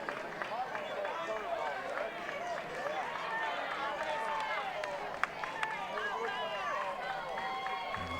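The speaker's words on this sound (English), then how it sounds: "And hear the crowd." A Palestine-Wheatley home crowd at a 2A high school state baseball final cheers on batter Reeves, a sustained, busy roar of voices and scattered clapping, fairly distant, with people talking over it.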